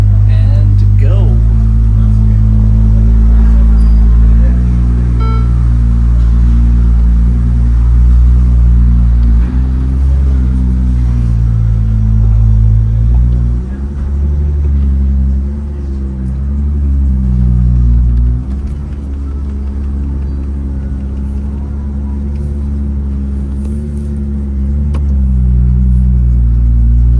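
A Ferrari on the Monaco circuit pulling away and picking up speed, its engine a low rumble that rises and shifts under steady close talk from inside the car.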